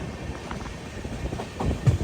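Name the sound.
Kochuveli–Rishikesh express train running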